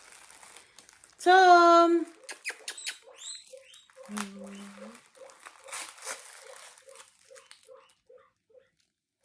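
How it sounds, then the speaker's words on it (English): Pet guinea pig rustling and pattering softly in its cage with light crinkling, under a brief loud squeal, a few short spoken words, and a quiet series of small rhythmic taps. "You can hear the rustling of the things. You've missed that, haven't you? The noise of the guinea pig."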